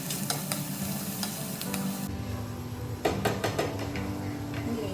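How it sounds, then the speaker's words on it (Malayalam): Chopped onions sauté in a pan for biryani gravy, a steady close sizzle with repeated scrapes and clinks of a spoon stirring against the pan. "ഓണിയൻ ആഡ് ചെയ്ത് വഴറ്റിയെടുക്കുക നന്നായിട്ട്."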